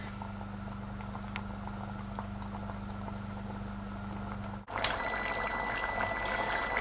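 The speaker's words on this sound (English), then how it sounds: "My chili is bubbling away." A pot of beef chili bubbles steadily on the stove, a thick continuous simmer with soft popping, broken by one brief dip before the bubbling resumes a little louder.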